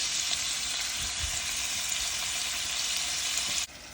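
Prawns (chemmeen) frying in hot oil give a loud, steady, close sizzle that runs unbroken and cuts off abruptly just before the end, with no voices.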